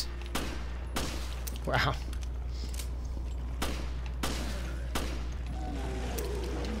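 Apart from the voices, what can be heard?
gunshots from video game Resident Evil Revelations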